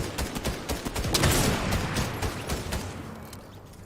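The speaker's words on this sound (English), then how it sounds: "I tried to shoot them with a sniper and you got them both" Rapid gunfire from a Fortnite match, a dense fusillade of overlapping shots and impacts that swell in the middle and thin toward the end, loud and close with no voices.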